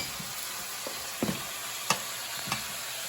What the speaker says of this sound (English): we're going to start cooking our portobello mushrooms